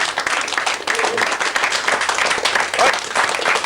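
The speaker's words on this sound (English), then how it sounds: "Let's have a little round of applause for Chris, who's a good sport." Studio audience at a radio show applauding, a dense, steady wash of clapping lasting a few seconds with no talk over it.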